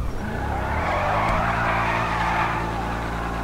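A car in GTA V Online, engine revving hard while the tires squeal and skid in a long sustained slide, loud and close with a steady droning motor tone underneath.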